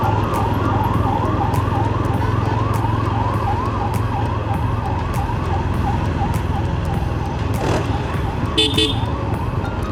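A wailing ambulance siren, heard from a motorcycle on the road, cycles steadily up and down, loud and close, over the rumble of traffic with a brief horn toot near the end.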